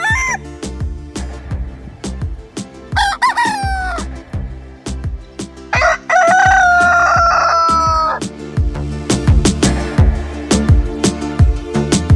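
Roosters crow loudly and repeatedly at Wat Chedi Ai Khai temple in Nakhon Si Thammarat, Thailand, with long rising calls over a busy backdrop of steady knocking and clattering ambience.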